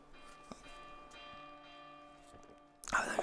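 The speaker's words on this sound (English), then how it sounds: "we have to hit this bell to open the next door" A bell struck in the video game The Girl and the Robot rings out with a sustained metallic tone, followed by a sudden louder burst of game noise at the end.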